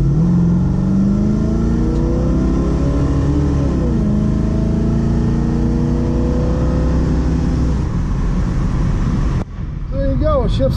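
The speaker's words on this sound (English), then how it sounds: "It shifts into high gear, wide open at about 72, 73 miles an hour" A '71 Mustang with a 351 Cleveland engine and Edelbrock carburetor pulls hard at wide open throttle, engine pitch climbing steadily before an upshift near the end, heard loud from inside the car with a voice over it.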